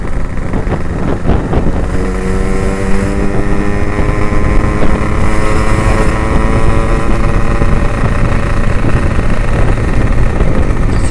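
A motorcycle fitted with an Abbox C20 exhaust, ridden solo on the road near Purwakarta, drones steadily with engine harmonics rising as it accelerates, heavy wind rush over the microphone throughout.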